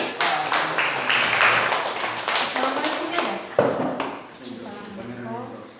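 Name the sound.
class clapping after a group presentation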